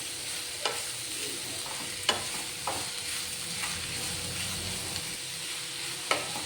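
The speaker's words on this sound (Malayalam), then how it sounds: "ഇനിയിപ്പോൾ നമുക്ക് നന്നായിട്ടൊന്ന് വഴറ്റിയെടുക്കാം" Cooked chicken filling with onions being sautéed in a pan for a snack: a steady close sizzle with a few sharp scraping clicks as it is stirred, no voices.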